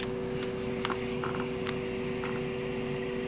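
Sony TC-1000B vintage cassette recorder switched on with a cassette inside but not playing, giving a steady electrical hum with a faint mechanical whir and a few soft clicks.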